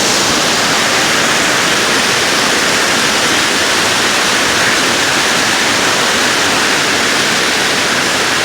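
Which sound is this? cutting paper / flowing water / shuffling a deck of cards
flowing water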